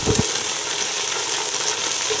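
Garlic and cumin paste sizzles steadily in hot oil in a pan, a loud, even frying hiss that runs throughout with no voices.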